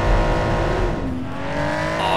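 A fast 1987 light sport car racing in BeamNG, its engine droning loudly at high revs with a steady pitch that shifts as it drives on, and talk running underneath.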